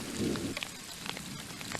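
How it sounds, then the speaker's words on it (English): Rain falls steadily at a mountain cabin during a thunderstorm, with a soft low rumble near the start and scattered drops pattering on a surface, faint and continuous with no voices. "I learned something about the thunderstorms up here."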